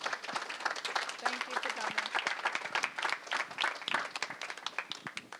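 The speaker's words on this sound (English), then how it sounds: "Can we have a round of applause for Michele?" An audience at a lecture gives sustained applause, a dense wash of many hands clapping steadily for several seconds, with some voices mixed in.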